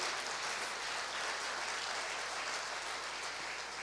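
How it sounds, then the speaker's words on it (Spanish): A congregation claps during a church service, a steady, dense wash of applause from many hands that continues evenly for several seconds without anyone speaking. "Dele un fuerte aplauso al que trae provisión del cielo."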